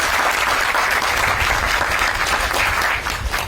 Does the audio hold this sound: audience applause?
yes